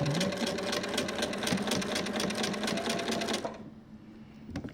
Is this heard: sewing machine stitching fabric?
yes